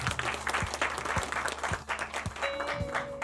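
An audience at a Mullae-dong redevelopment briefing claps enthusiastically for a committee chairman, with the applause rising and falling in waves and a faint tone sounding near the end.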